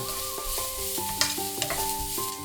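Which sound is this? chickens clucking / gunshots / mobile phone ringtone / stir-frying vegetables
stir-frying vegetables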